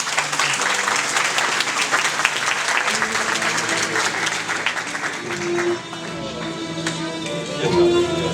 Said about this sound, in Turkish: Süleyman abiye bir alkış yok mu ya?